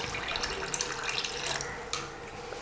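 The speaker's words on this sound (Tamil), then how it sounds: "இப்போ கன்சிஸ்டன்சி பார்த்துட்டு தேவையான அளவுக்கு தண்ணி சேர்த்துக்கலாம்." Water pours into a pot of horse gram rasam while it cooks, a steady splashing trickle at close range, alone without talk, ending in a sharp knock.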